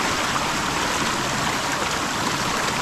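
Strong water rushes through a rice-field irrigation channel, a loud, steady broadband roar and gush close by with no pauses or speech.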